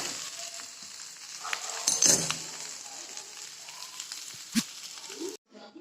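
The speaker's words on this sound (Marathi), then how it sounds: "आता चटणीला तडका दिलाय" A tadka for chutney of dal, onion, tomato, peanuts, coriander, green chilli and cumin sizzles steadily in hot oil, with a few clinks of a utensil and a brief louder crackle.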